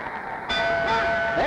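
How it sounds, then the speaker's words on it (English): A bright ring sounds at the end of a round in a championship boxing match in Miami Beach, cutting in sharply and sustaining over crowd noise. "There's the bell."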